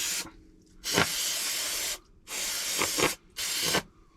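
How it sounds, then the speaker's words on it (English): Three long hissing bursts of degreaser from a spray nozzle onto a bicycle and its derailleur, close and loud, separated by brief pauses. "spray on your degreaser, use the derailleur as well"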